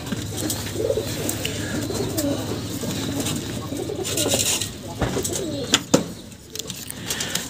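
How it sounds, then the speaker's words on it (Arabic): Pigeons coo softly inside a coop, their low calls blending with a constant background hiss and a few sharp knocks and thumps toward the end. "خش العشة بقى، نبص على الحمام"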